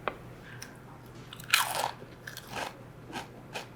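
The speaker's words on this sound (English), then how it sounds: "this isn't a cracker situation, it's a potato chip, the one with the ridges." A ridged potato chip dipped in a pickle-and-dill dip gives one sharp crunching bite, followed by a few softer, close chewing crunches in a quiet room.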